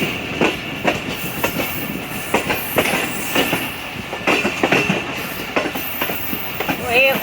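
The Pakistani 104 Down Subak Kharram rail car on its inaugural run rolls along the tracks entering Gujar Khan, its wheels giving loud, steady clickety-clack beats with a brief squeal near the end, heard from inside among faint voices.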